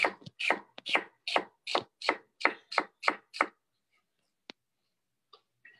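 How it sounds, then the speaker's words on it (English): Onions chopped finely with a kitchen knife: about ten quick, evenly spaced chops on a board, close and crisp, followed by near silence broken by a single sharp tap and a few faint knocks. "we chop the onions really, really fine"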